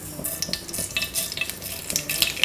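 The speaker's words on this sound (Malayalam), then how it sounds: "നമുക്ക് കടുക് ഇട്ട് കൊടുക്കാം." Mustard seeds dropped into hot coconut oil in a pan, a bright crackling sizzle with scattered sharp pops, close and lively for a couple of seconds.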